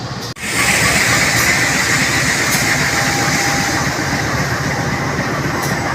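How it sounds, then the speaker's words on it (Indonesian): The KA Bukit Serelo economy passenger train waits at a station on the Lubuklinggau–Prabumulih line with its locomotive running, giving a loud, steady engine rumble and hiss that holds for several seconds after a brief dip at the start. "Ini lokomotif yang akan menarik kereta kita ini, KA Bukit Serelo"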